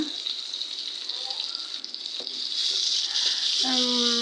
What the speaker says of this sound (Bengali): কড়াইতে তেল দিয়ে দিলাম দিয়ে পেঁয়াজ কুচি দিলাম